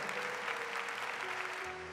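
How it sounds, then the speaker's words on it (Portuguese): A church congregation at a Mass applauds the strength of the resurrection, a soft, distant, steady wash of clapping that sits low in the room with a faint tonal hum beneath it. "Vamos aplaudir essa força da ressurreição?"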